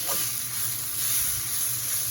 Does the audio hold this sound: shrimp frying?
yes